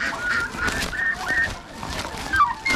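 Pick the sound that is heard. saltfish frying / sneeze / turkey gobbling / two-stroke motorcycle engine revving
turkey gobbling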